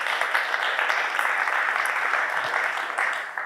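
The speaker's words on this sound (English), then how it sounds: "Let's have a round of applause for Julian." Audience applause for a presenter at a Kubernetes data management conference talk, a dense, steady wash of clapping that holds for the whole stretch and eases slightly near the end.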